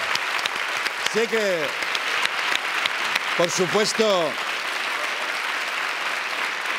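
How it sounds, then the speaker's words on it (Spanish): Steady applause from a late-night talk show studio audience fills the background while someone speaks over it in Spanish. "Un aplauso para él."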